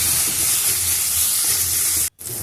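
Loud, steady sizzling of tomatoes with coriander, turmeric and Kashmiri chili powder frying in a pan for dhaba-style egg tadka, stirred continuously, with a brief break near the end.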